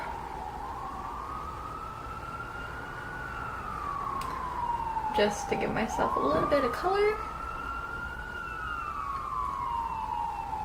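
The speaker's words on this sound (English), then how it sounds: "And there goes an ambulance." An ambulance siren wails steadily in the distance, rising and falling as it passes through a campus town, while a person speaks briefly over it midway.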